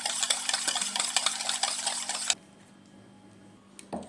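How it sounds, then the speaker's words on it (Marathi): Thick mysore bonda batter stirred with half a spoon of baking soda in a bowl, a steady wet scraping and slapping for about two seconds, close and fairly loud, then quiet with a brief clink near the end. "तर आपल्याला चांगलं असं मिक्स करून घ्यायचं आहे।"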